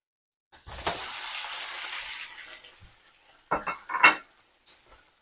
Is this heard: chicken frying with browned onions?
yes